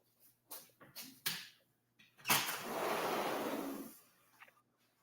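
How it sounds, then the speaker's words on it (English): A sliding door in a house is rolled open, a few faint knocks and clicks followed by a loud, sustained rumbling slide of about two seconds, then quiet. "I opened the sliding door"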